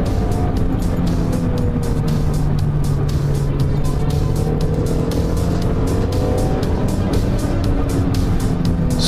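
Early-1980s front-wheel-drive Lancia Prisma 1600 saloon accelerating hard from a standstill in first gear, its engine roaring loud and steady throughout with a possible hint of tyre noise and no talk.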